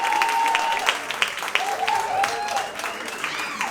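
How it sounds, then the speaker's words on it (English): Audience applauding a comedian taking the stage at a comedy show in Dubai, a steady wash of clapping with a few sharper individual claps and faint cheers mixed in. "Put your fucking hands together"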